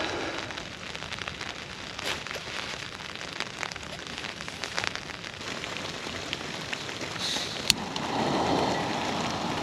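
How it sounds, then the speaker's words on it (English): Rain falling steadily on a camping tent on a wilderness coast walk, a dense close patter with scattered louder drops, swelling slightly near the end, with no talk. "Hopefully you can hear me over the rain"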